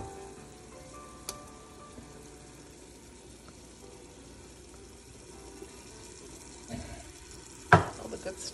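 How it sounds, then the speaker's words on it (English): Garlic and ginger cook in a pan for an Ethiopian dinner. A faint, steady sizzle runs throughout, and a couple of soft clatters come near the end. "we'll give this 10 minutes to kind of cook that garlic and ginger a little bit"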